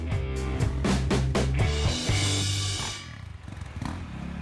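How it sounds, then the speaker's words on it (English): Several motocross motorcycles roar off the start line together at the start of a race, loud overlapping engine revving and clatter that builds then thins out as the bikes pull away. "the fateful sound of race 4 going off the line"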